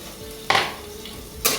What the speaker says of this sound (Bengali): আমি এটা 2 থেকে 3 মিনিট পেঁয়াজটাকে ভালো করে ভেজে নেব।